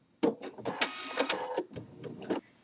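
Sewing machine closing the opening of a doll cap, with quiet, uneven bursts of clicking stitches and short pauses between them.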